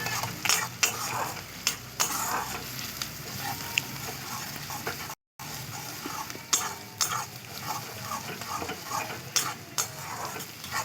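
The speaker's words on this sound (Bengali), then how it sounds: "রসুন আর পেঁয়াজ একসঙ্গে সবগুলো ভালো করে ভেজে নেব।" Garlic and chopped onions fry together in a pan, with a steady sizzle broken by repeated scraping and stirring strokes of a spatula, close and without talk, one brief silent gap midway.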